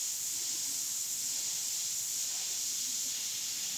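Light paint overspray from a sprayer gives a steady, even hiss, close and fairly quiet, running unbroken without talk.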